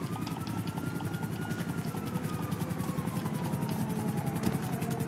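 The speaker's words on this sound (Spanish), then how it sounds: "El helicóptero es lo único que me molesta." Police helicopter in a GTA video game, rapid rhythmic rotor chopping held steady and fairly loud throughout, with a faint whine slowly falling in pitch.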